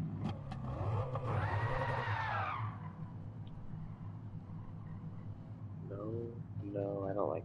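A Porsche in Gran Turismo 7 revs up with a rising engine sweep that fades into a low idle rumble, with a person talking over and after it.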